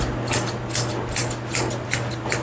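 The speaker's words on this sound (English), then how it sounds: "I use my straight scissors to trim up under his tail." Straight scissors snipping close up, trimming a Shih Tzu's hair under its tail in a steady rhythm, about ten crisp metallic cuts with a faint hum underneath.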